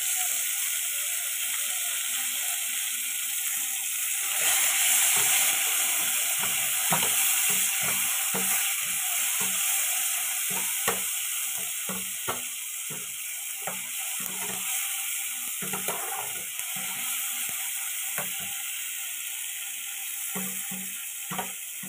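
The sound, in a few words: chopped tomatoes frying and being stirred in a pan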